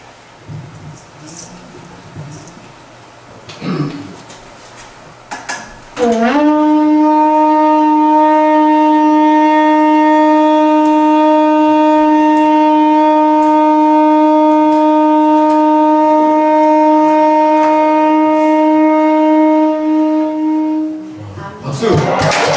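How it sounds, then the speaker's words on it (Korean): A horn is blown in one long, steady, loud sustained blast during a morning worship service, holding an even tone for about fifteen seconds after a few seconds of quiet room noise, then trailing off. "우리 시작에 좀 폴라파를 좀 불러주실래요? 네, 시작에 불러주시죠. 긴 호흡을 통해서 길게 불러주세요."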